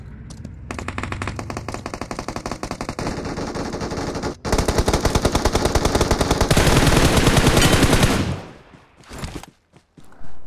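Rapid automatic gunfire from a fight in the BGMI battle royale game, with dense sustained bursts that grow louder and fuller toward the end before cutting off, followed by a few scattered shots.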